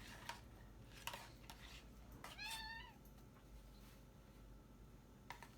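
A cat meows once in a kitchen during baking, a short rising-falling cry in the middle, amid faint clinks of utensils and background room noise.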